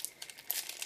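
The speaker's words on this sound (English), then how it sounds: "I should unwrap it because it's getting a weird thingy." Snack wrapper being unwrapped close by, a few quick crinkling crackles in short bursts, faint and brief with no talking.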